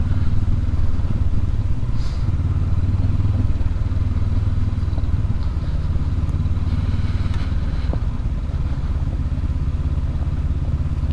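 A 2019 Honda CB500X motorcycle rides over rocky off-road terrain with lowered tire pressures, its mid-pitched engine droning steadily and loudly, while rocks and gear clatter over the rumble throughout.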